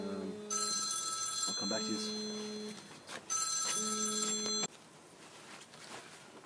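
A telephone rings in two bursts of electronic trilling tones, cutting out between them, at a bush grill cooking chicken over red gum wood; a person speaks briefly over the ringing.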